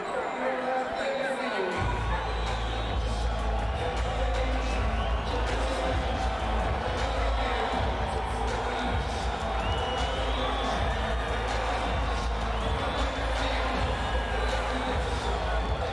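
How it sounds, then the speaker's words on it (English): Arena crowd at a heavyweight boxing bout, a steady loud roar of mixed cheers and jeers filling the room with a low rumble throughout, with scattered shouts rising above the din. "They don't know whether to cheer or boo, it seems."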